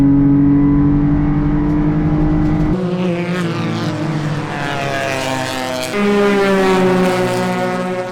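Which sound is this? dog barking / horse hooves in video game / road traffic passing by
road traffic passing by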